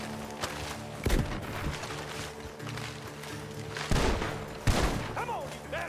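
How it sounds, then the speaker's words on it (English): Gunfire from the Red Dead Redemption 2 video game: several sharp, loud shots at irregular intervals, with a close burst near the start and two more later, over a rumbling game background with brief vocal sounds. "The gunshots are coming from that barn!"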